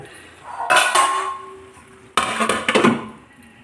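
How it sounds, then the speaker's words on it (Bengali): A metal pot lid lifted and clattered twice on a cooking pot of carrot halwa, each a bright ringing clank with a short metallic tail, close and clear with no talk. "এবার ঢাকনাটা তুলে দেখি হালুয়াটা কেমন হয়েছে"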